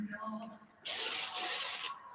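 Cooking spray hisses onto a casserole dish in a sustained close burst of about a second, with a brief pause before it resumes. Quiet talk and handling are heard just before it.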